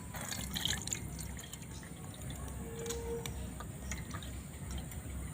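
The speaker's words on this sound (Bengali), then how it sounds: "তেঁতুলের জলটা ছেঁকে নেবো" Tamarind water strained through a sieve while making fuchka (pani puri), trickling and dripping steadily into a bowl at close range over low kitchen background noise.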